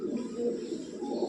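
Steady, soft cooing of Punjabi Malvai pigeons, low and throaty, continuing throughout without pause and heard close by.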